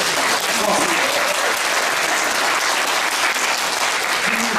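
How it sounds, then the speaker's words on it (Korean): Lecture audience at an economics keynote gives a steady, full round of applause, a uniform wash of many clapping hands at moderate distance with a few faint voices mixed in. "박수 좀 그럼."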